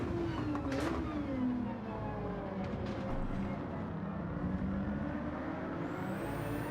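Race car in a racing video game braking and accelerating on a circuit, a continuous close engine drone with shifting pitch as revs drop under braking and climb again, no voices.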